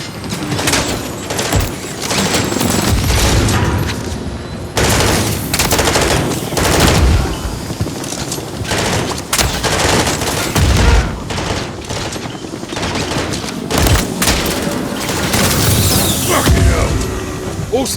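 Dense, sustained gunfire aimed at a helicopter during a Modern Warfare 3 campaign battle at a reactor, with bursts of automatic fire and booms filling the whole stretch, loud and continuous.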